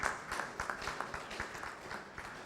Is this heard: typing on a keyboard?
no